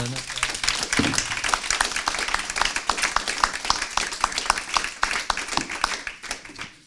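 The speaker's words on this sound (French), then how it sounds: "Je crois qu'on peut applaudir notre..." Audience applause after Éric Dupond-Moretti presents his book at a press event, a full crowd clapping with some distinct individual claps rising out of the sustained wash, tapering slightly at the end.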